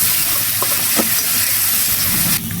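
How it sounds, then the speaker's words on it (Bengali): Cumin, chili, turmeric and salt cook with a splash of water in a hot pan, a loud steady hiss and sizzle with a couple of stirring clinks, easing off near the end. "এখন আমরা জিরা, মরিচ, হলুদ, লবণ একসাথে দিয়ে মশলাটাকে কষাই নিচ্ছি"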